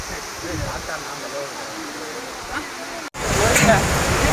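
Water pours down the Courtallam waterfall, a steady, even rush of noise that grows louder and closer after a brief break partway through.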